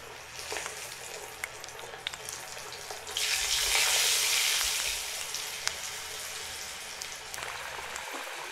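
Chicken pieces fry in medium-hot oil in a frying pan, a continuous crackling sizzle that swells into a louder hiss midway before settling back to a softer spatter.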